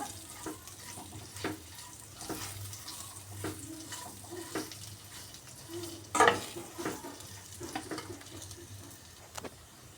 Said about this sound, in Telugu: బాగా మెత్త మెత్తపడే వరకు ఫ్రై చేసుకున్నాము లో ఫ్లేమ్లో